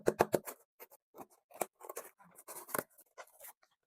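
A skincare product package is opened with a quick series of crisp snips, clicks and crinkles, close and fairly quiet, with short gaps between them.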